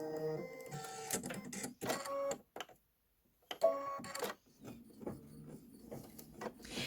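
An embroidery machine stitches a tack-down on a Kimberbell Main Street Celebration sign, giving rapid mechanical stitching bursts with whirring movement and one brief silent pause.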